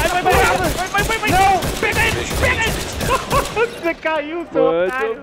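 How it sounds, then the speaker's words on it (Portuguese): Heavy gunfire in The Division 2, shots crackling rapidly and densely beneath excited shouting voices, the firing thinning out toward the end. "Meu Deus do céu, muito tiro."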